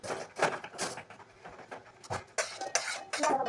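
Bhel being stirred in a bowl with onion, tomato and coriander, a run of close, quiet crunchy rustles and scrapes of puffed rice against the bowl in uneven bursts.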